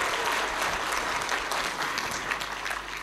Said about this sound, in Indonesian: Tepuk tangan dong buat Anda semuanya.